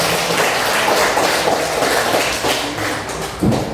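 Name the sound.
class applauding for Nadine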